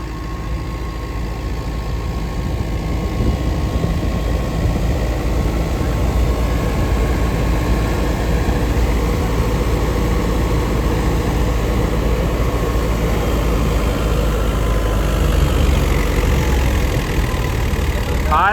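A New Holland 850 tractor engine drives a wheat thresher in the field, a loud, steady, continuous roar with a low rumble and whining mechanical hum throughout, close to the listener.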